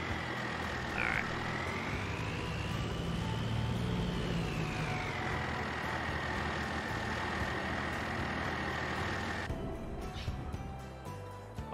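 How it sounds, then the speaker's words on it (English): Truck engine in the Farming Simulator video game, a steady low rumbling drone with a whining tone that rises and falls in pitch, then cuts off near the end as the sound changes. "Love the sound of that truck though."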